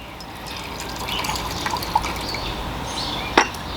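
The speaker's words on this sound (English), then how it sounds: "and then put a little more hot water" Hot water splashes and drips into a matcha bowl during rinsing, a soft continuous liquid wash with a few brighter drip accents close by.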